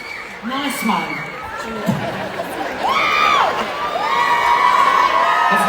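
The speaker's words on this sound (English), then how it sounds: "I've told you all that cheers, not screams." A crowd of children cheers and screams in a loud, sustained burst that swells toward the end, with excited shouts and whoops over steady chatter.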